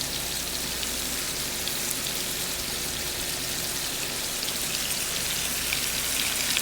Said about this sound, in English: we're going to start browning the ground beef